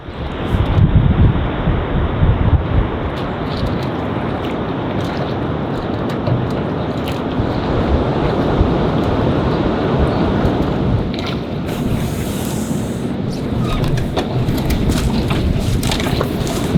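A waterfall roars beside a canoe portage spot in the backcountry, a loud, steady broadband rush that never lets up, with a few faint knocks on top.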